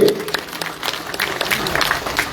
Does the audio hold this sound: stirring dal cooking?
no